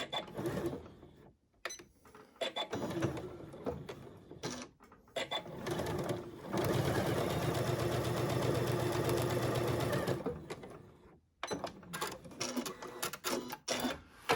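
A sewing machine stitches around the lining of a flat-bottom zipper pouch, with short stop-start bursts giving way to a long steady run of rapid mechanical whirring, close and loud, before halting again.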